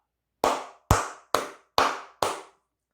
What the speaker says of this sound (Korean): 모두 기립박수 치고 가도록 하겠습니다